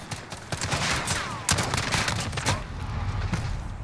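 In Call of Duty Modern Warfare, a FAMAS fires dense, loud bursts of rapid shots, the sharp cracks clustering and overlapping with brief gaps between volleys.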